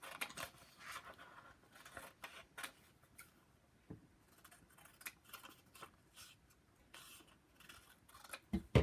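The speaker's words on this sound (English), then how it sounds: "So I will go ahead and cut out gramophones." Scissors snip through paper while cutting out gramophone pictures, a quiet run of light, irregular clicks and rustles at close range with brief pauses between cuts.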